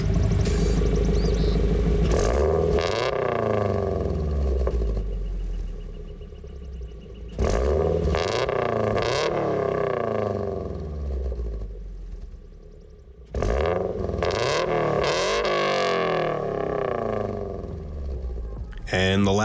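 Car engine with an aftermarket exhaust set to loud mode, revving hard in three loud bursts with rumbling idle between, each rev climbing and falling sharply.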